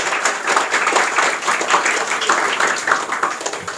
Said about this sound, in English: Clap hard, first prize.